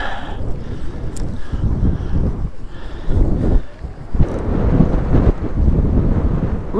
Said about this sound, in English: That's a good wind gust.